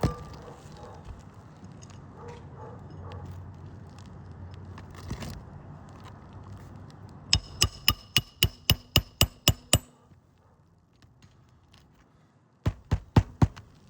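A hammer drives roofing nails into asphalt shingles: a brisk run of about nine evenly spaced, ringing strikes, then a pause, then four more quick blows close by in a quiet outdoor setting.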